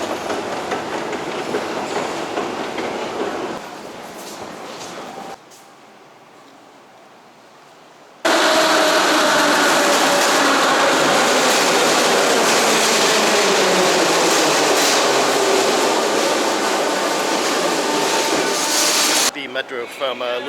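Kyiv metro train running between Lukyanivka and Golden Gate stations, a loud enclosed rumble with rhythmic wheel clatter and squeal, dipping quieter for a few seconds before surging back to a roaring full-speed run.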